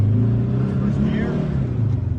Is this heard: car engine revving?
yes